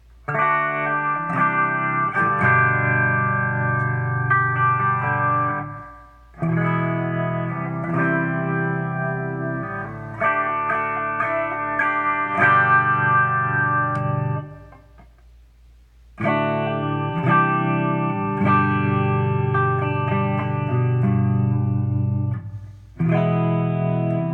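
Clean electric guitar tone on the bridge pickup strums chords in bright, ringing phrases separated by short pauses, played alone at a steady moderate volume.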